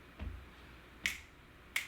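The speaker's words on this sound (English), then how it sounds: "step back and snaps" Sharp finger snaps in an exercise class for balance and fall prevention, a soft thump followed by two crisp snaps spaced under a second apart, close and isolated in a quiet room.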